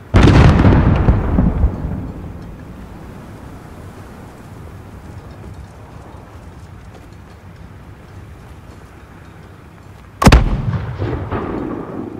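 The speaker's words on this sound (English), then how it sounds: "Alex, there's another Alcatala mortar team." A heavy, booming mortar blast from the war game Call of Duty: Modern Warfare opens loud and rumbles away. After a long low battlefield drone, a second sharp, loud explosive crack hits near the end.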